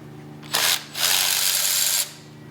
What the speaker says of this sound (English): we're gonna remove the 6 bolts that hold on the end cap